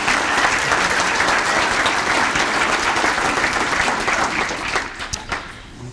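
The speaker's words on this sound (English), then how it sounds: "Let's give them all a round of applause." An audience at an awards celebration claps in steady, dense applause that fills the room, then thins and fades out over the last second.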